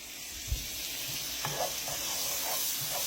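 Chopped shallot sizzles steadily in a hot pan for a lobster and shrimp pasta, with a constant frying hiss broken by a few soft scrapes and knocks as it is stirred around.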